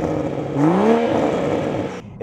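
2024 Toyota Supra 3.0 with a BMW 3-liter inline-six turbo and manual transmission accelerating: a loud, close engine note rising in pitch from inside the car, with no talk, ending abruptly.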